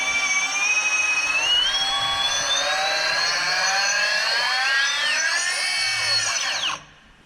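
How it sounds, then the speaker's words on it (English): Drone arm motors spin up on a factory test bench, giving off a steady, loud, whining hum whose rising and bending pitches stack together for several seconds before cutting off abruptly at the end. "checking that both motors are working nicely"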